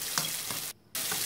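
Algerian sfenj beignets frying in hot oil while oil is spooned over them, a steady soft sizzle with a few light scrapes, broken by a brief near-silent gap before the bubbling resumes.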